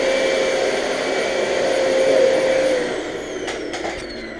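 A vacuum cleaner runs loud and close with a steady whine that wavers slightly, then drops in pitch near the end as short knocks and bumps sound against it.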